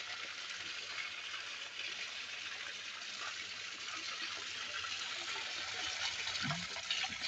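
Sulphur spring water gushing steadily into a bottle or flask, a continuous close splashing stream with a faint low hum beneath it and no speech.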